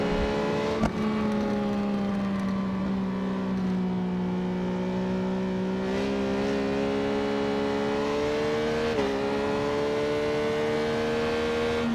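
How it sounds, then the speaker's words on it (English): A Triumph motorcycle revs steadily in the racing game Ride 4 during an exhibition league race, its engine holding a loud, sustained droning tone that climbs gradually, with brief dips near one, six and nine seconds as it shifts gears. "I'm trying to be clever and get some heat into the rear by getting on the gas early and getting the bike moving around"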